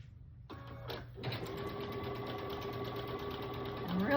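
Home sewing machine running a steady 1/4-inch seam on fabric pieces for a February door hanger, a continuous close whirring that starts after a brief pause and holds level, with a faint voice beneath.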